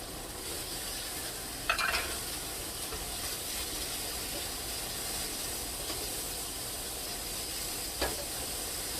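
Onions and garlic frying in a pan, a steady close sizzle with broadband hiss throughout and two sharp stirring scrapes, one early and one near the end.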